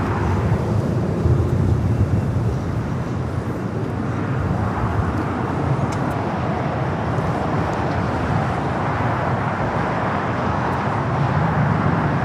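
A plane arriving on the north side of LAX, a loud, steady roar that holds for the whole stretch, blended with a broadband rush of nearby traffic, with no talk.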